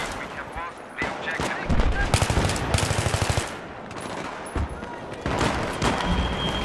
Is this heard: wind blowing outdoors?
no